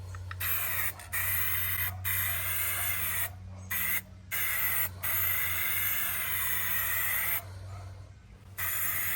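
An aerosol can sprays Plasti Dip onto a Ram ProMaster's stock 16-inch alloy wheels in several long, steady hissing bursts separated by short pauses, close and clear over a low background hum.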